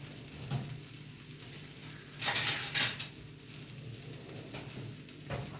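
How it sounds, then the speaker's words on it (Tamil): A sweet potato dosa cooks on a hot pan, giving a steady soft sizzle with a couple of louder crackling bursts in the middle and light scraping clinks, close by with no talking. "இப்போ இது தோசை நல்லா வேகட்டும்"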